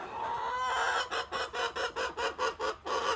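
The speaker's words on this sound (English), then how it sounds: "as you can see I haven't let the chickens out yet" Hens clucking inside a closed chicken coop on a homestead, a dense chorus of close, fairly loud clucks and squawks that turn into a steady pulsing rhythm of about ten bursts, with no talking.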